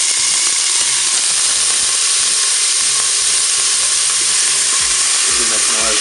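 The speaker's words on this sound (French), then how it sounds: "Ça y est, mon huile est chaude. Je vais pouvoir mettre mes oignons." Onions hit hot oil in a Cookeo multicooker, making a loud, continuous sizzle and hiss with faint stirring scrapes underneath and no voices.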